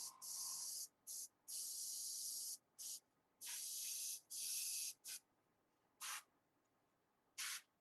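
Airbrush spraying paint onto a Darksiders Death figure, a series of short and longer hissing bursts with brief pauses between, close and sharp with quiet gaps in between.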